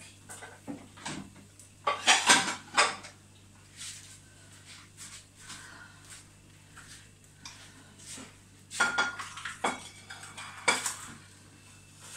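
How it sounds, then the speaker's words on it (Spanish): A pan holding a cheese tortilla is handled and flipped onto a plate in a kitchen, with irregular clinks and scrapes of metal and crockery at close range, loudest in a few sharp bursts, with no talk. "Y ahora esto se vuelca en un plato."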